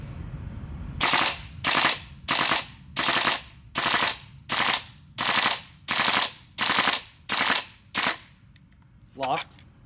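A GHK M4 CO2 gas blowback airsoft rifle fires a magazine in eleven sharp, evenly spaced loud cracks with mechanical clatter, each shot clear and close, followed by a faint brief sound.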